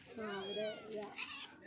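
A large pet cat meows in a drawn-out, wavering cry, close and fairly loud, with a second shorter call near the end and background voices underneath.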